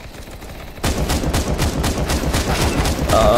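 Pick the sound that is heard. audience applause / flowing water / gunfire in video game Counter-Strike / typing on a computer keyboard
gunfire in video game Counter-Strike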